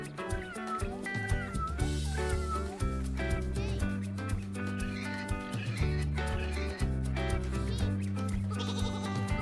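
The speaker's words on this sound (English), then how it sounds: "Cat." A cat meowing in an animal-voices piece for toddlers, the calls laid over continuous loud music.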